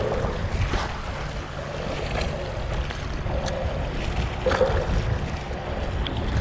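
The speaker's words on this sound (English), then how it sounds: "it's really windy right out here" Strong wind buffeting a GoPro microphone out on open water during a fishing trip, a constant low roaring rumble with gusts, and faint lapping water beneath.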